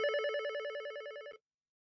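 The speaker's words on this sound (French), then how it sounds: "J'ai un appel sur mon téléphone fixe." Landline telephone ringing, a single electronic warbling ring with rapid pulsing tones lasting just over a second before stopping into silence.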